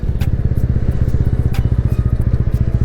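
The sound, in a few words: TVS Ronin 225 motorcycle lightly braking while riding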